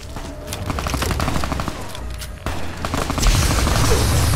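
Gunfire in the Fallout: New Vegas game: a rapid string of automatic shots, then a louder, denser exchange of fire with booms, sustained and close throughout.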